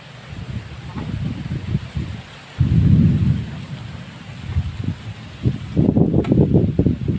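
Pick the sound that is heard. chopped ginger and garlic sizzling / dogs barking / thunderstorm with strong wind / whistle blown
thunderstorm with strong wind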